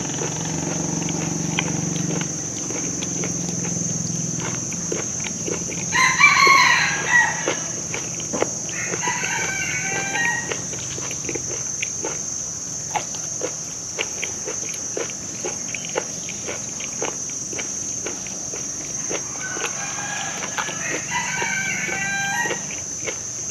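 A rooster crows a few times at a moderate distance while chickens cluck intermittently in a rural outdoor setting, over a steady high insect drone and light background clatter.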